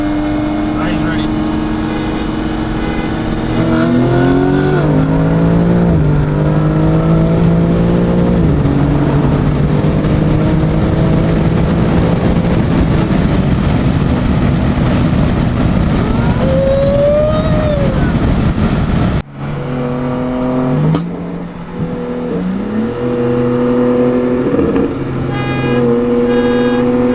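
A BMW M3 engine revs hard during a race, climbing repeatedly through the gears to redline in loud rising sweeps, with a brief break before another run of up-shifting acceleration; a voice talks briefly over it.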